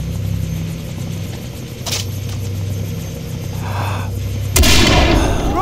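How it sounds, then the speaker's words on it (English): Helicopter in the Far Cry 3 video game, a low droning rotor under scattered gunfire, ending in a loud nearby blast. "can't let them put Ollie in the chopper"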